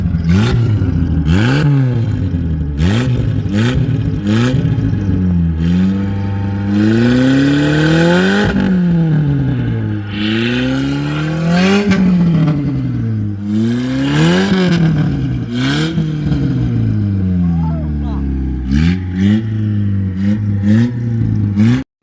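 A loud Opel car engine revs repeatedly through a straight exhaust pipe, rising and falling in sharp, throaty bursts with a brief idle between.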